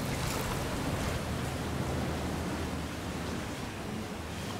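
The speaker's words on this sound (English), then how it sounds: "See how choppy the water is?" Choppy sea water beneath an over-water villa at a Maldives resort makes a loud, continuous broadband wash, steady surf-like noise with no distinct breaks and no voices.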